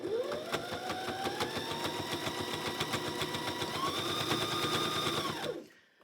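A sewing machine stitches binding onto a quilt, a fast steady rhythmic clatter close up that runs continuously for several seconds before stopping abruptly.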